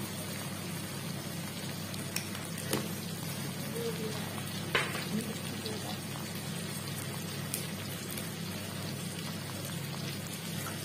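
Prawns sauté in a pan with spices and salt, a steady sizzle with soft crackles and occasional pops close by.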